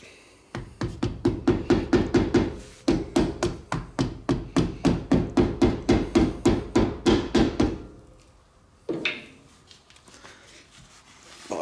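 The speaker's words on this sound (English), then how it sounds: "Now just pound on the cap." A hammer pounds a grease cap onto a trailer wheel hub, some thirty rapid, evenly spaced metallic strikes in two long runs, close and loud, followed by a single later knock.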